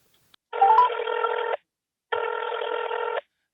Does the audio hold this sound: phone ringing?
yes